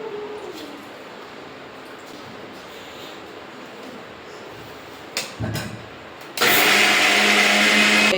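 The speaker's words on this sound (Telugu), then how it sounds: "ఇప్పుడు మిక్సీ పట్టేస్తాను" A mixer grinder starts up with a few short whirs, then runs at full loud, steady grinding of batter after a stretch of quiet room noise.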